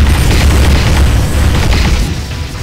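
Long-range missile explosions from a bomber strike in a video game, a loud sustained deep rumbling boom that holds heavy for about two seconds before easing off.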